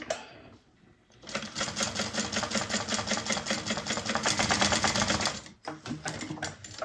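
A sewing machine stitches across an Isabella bag in a steady, fast mechanical whir with rapid clicking, running continuously for several seconds after a brief quiet start, then stopping and briefly restarting near the end.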